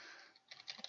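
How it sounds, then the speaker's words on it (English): Someone types on a computer keyboard near the mic, giving a quick, irregular run of soft plastic key clicks that picks up toward the end over a hissy background, with no speech. "I'm sure you guys can hear me typing in the background."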